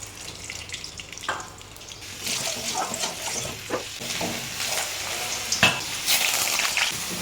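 Pumpkin pieces frying in a pan for pumpkin bharta. A continuous close sizzle punctuated by irregular scraping stirs and occasional sharper clicks of the utensil.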